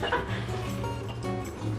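Dogs bark and yip in a home setting, sharp repeated barks with whimpers, fairly close and mixed with background household noise and faint voices.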